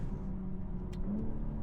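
Low, steady exhaust drone from a BMW M240i xDrive G42 coupe with reworked exhaust, a muffled cabin rumble at moderate level with a faint brief rise.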